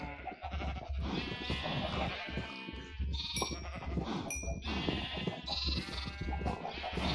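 Sheep in Minecraft bleat repeatedly, several overlapping blocky bleats over a low steady background hum, clear and fairly close.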